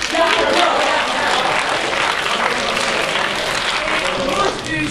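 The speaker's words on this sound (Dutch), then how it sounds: "Applaus! Ja, applaus!" Loud, dense applause from a crowd gathered outdoors for a park opening, steady clapping throughout with voices mixed in.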